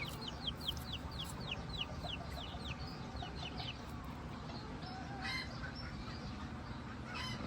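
Short-legged bantam chickens, one rooster and two hens, cluck and call in a busy farmyard, with rapid high chirps early on and scattered clucks over constant background noise.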